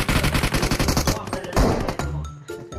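An enemy fires in a video game, likely an SMG: rapid, loud, close automatic bursts for about two seconds, then a brief lower rumble as the firing stops.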